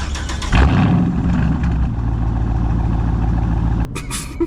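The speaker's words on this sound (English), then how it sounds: "It's got a straight through exhaust, straight from the headers back, like a 4-inch exhaust all the way back to 5-inch tips." A car fitted with a straight-through 4-inch exhaust from the headers to 5-inch tips fires up with a loud, raw rumble, settling into a heavy, throbbing idle before cutting off abruptly near the end.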